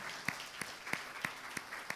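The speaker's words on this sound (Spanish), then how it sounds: "Le damos un aplauso al Señor por este regalo precioso" Church congregation applause with a steady, rhythmic beat of sharp claps standing out above a continuous wash of clapping.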